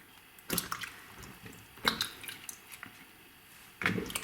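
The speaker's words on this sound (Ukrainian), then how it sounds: "Просто мию грибочки." Fresh mushrooms being washed by hand in water: soft splashes, squishes and drips in a few bursts with quieter sloshing between them, close and fairly faint, with no voices.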